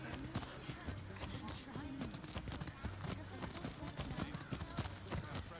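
Steady clip-clop of horse hooves in The Last of Us Part 2 plods along in a rhythmic pattern, mid-distance, over continuous low ambient noise.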